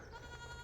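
Goats bleating in a barnyard after being let out to graze, one brief, faint wavering bleat.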